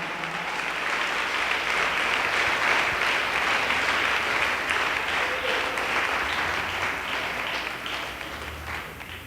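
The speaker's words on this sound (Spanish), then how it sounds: "Dele esas palmas al Señor" Sustained applause from a church congregation, a dense steady wash of clapping that fades slightly toward the end.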